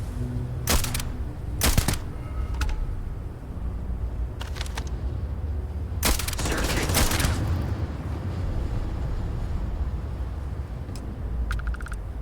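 Video game gunfire from Starfield crackles in several sharp bursts and single shots, loud and near, with a longer rattling volley in the middle over a steady background rumble.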